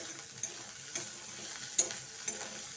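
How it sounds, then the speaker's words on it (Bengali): Soft, continuous sizzling of radish greens frying with a few light scrapes of a spatula stirring the pan, quiet and close. "মাঝে মাঝে ঢাকাটা খুলে শাকটাকে এইভাবে নেড়ে চেড়ে নিতে হবে"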